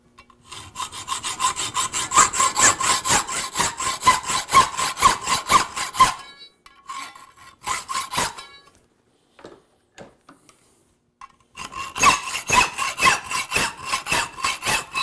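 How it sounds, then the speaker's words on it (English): Hacksawing a steel moulding iron blank, rapid rhythmic rasping strokes close up, pausing midway with a few scattered scrapes before resuming. "We'll just hacksaw that off."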